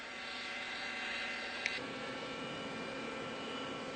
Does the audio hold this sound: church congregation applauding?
no